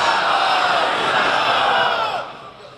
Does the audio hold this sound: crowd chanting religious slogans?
yes